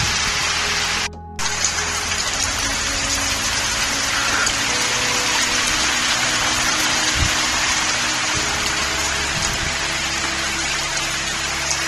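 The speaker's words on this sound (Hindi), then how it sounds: "देखा जा सकता है कि कितनी तेज रफ्तार से यहां हवाएं और बारिश" Heavy rain and strong wind from Cyclone Asani in Srikakulam district, a dense steady roar of downpour and gusts that runs without a break, close and loud, with a short pause early on.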